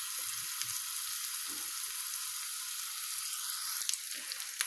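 Onions frying in a pan for a tomato and egg dish, giving a steady, close sizzle throughout with faint scattered clicks and no talking.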